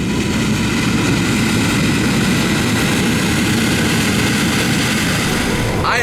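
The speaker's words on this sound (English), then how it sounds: "I am in a big old John Deere combine." Big old John Deere combine harvester running, a loud, steady engine drone with constant roar and hum heard close from inside the cab, unbroken for the whole stretch.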